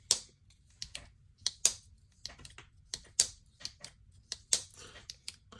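Quiet, crisp mechanical clicks and snaps repeat irregularly as a folding knife opens and shuts several times, quieter on opening, with sharper clacks on some closes.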